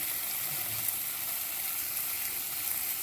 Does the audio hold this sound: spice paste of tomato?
yes